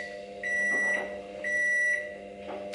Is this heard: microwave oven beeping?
yes